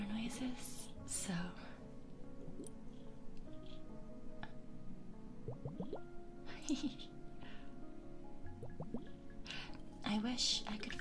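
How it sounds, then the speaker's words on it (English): Small water drips and soft blubbing liquid sounds fall in short clusters of a few plinks at a time, close and quiet beneath a whispering voice in a calm setting. "I love water noises"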